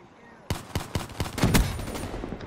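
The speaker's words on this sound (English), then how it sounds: "I'm about to shoot my teammate again." Gunfire in the video game Call of Duty: Black Ops 3, hardcore team deathmatch multiplayer: a string of about six sharp shots in quick succession, loud and close, ending in a denser burst over a background hiss.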